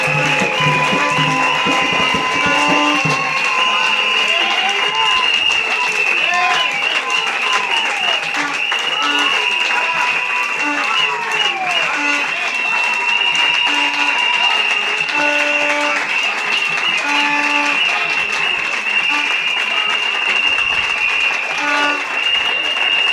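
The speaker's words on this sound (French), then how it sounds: "Acclamez très fort." A church congregation applauds loudly and steadily for the whole stretch, a dense wash of clapping hands under a sustained tone.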